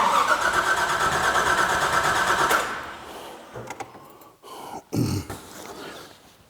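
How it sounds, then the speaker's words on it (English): The starter cranks a 1958 Corvette with a 454 engine over with the ignition disabled, giving a rapid, rhythmic churning that lasts a few seconds and then stops. Scattered clicks and clunks follow. "I've disabled the ignition again. We're going to go ahead and we're going to turn the car over"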